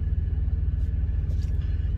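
A parked truck is buffeted by strong south wind during a high-wind event, a constant loud low rumble and roar that stays close and steady throughout, with no voices.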